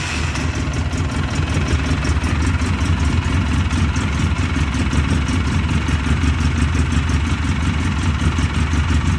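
A 2009 Polaris Sportsman 800 ATV engine with a hard-starting problem runs at a steady, loud idle, a continuous rumbling chug close by with no talk over it.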